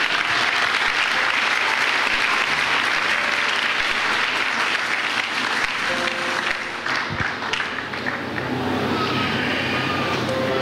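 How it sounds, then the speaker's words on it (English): A church congregation claps loudly and steadily in sustained applause during a sermon, a dense wash of hand claps with no talk over it. "Can you clap hand for this God?"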